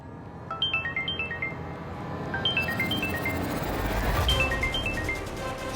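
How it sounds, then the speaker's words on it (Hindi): A phone ringtone plays a repeated run of bright electronic melodic notes in short bursts. Each phrase rises and falls and repeats several times at moderate loudness. "ये किसका फोन बज रहा है?"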